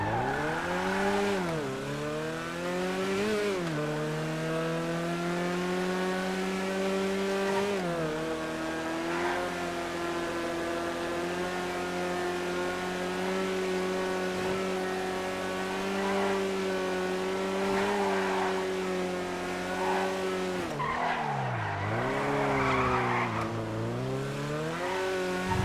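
A tiny car in a racing video game drives with a steady, loud engine drone that rises and falls in pitch through gear changes, with a sharp dip near the start and another near the end.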